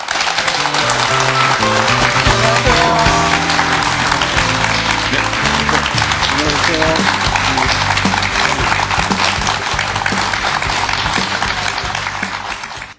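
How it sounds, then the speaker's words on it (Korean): Studio audience applause greets acupuncture and moxibustion master Gu-dang Kim Nam-su on the MBC Busan TV Doctor set, loud and steady under bright music for about twelve seconds, with a host's brief greeting. "큰 박수 부탁드립니다."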